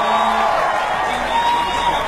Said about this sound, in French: C'est Mayas, sous vos applaudissements